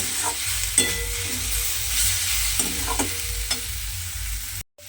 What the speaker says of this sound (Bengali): বড়িটা আমি দিয়েছি দিয়ে খুব ভালোভাবে আবারও কিন্তু সমস্তটা এক মিনিট মতো একটু ভাজা ভাজা করে নেব